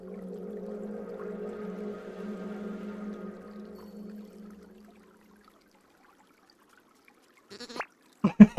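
A sheep bleats in a low, drawn-out wavering cry in the video game Carto, fading after a few seconds into silence before a couple of short sharp sounds at the end.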